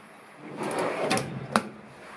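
A locking drawer slides open or shut in a luxury Luxstar Mobox Maxi snack trailer, a soft rolling rumble followed by a couple of brief clicks and a sharper knock near the end, fairly faint and close.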